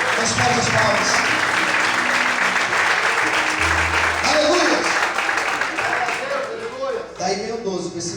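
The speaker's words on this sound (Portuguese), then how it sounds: "As palmas." Many worshippers in a church clap together in a broad, continuous burst of applause, with speech and a low sustained tone mixed in beneath the clapping.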